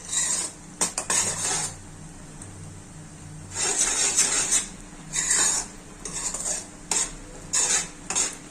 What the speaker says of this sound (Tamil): பாருங்க, வெள்ளம் கரைஞ்சி பாவு நல்லா கொதிக்குது.